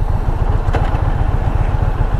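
An Indian Pursuit motorcycle with a roughly 1.8-liter engine runs with a steady, loud low-pitched rumbling throb, heard up close while riding, with wind noise over the engine.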